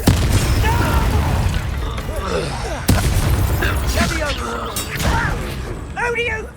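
Spell blasts fired in Hogwarts Legacy, a run of booming bursts and sharp magical cracks hitting in quick succession, loud and close, with voices heard throughout over the effects.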